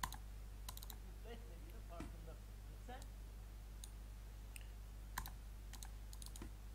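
Computer keyboard keys pressed in a series of light, sharp clicks, scattered and fairly faint over a steady low hum in a quiet room.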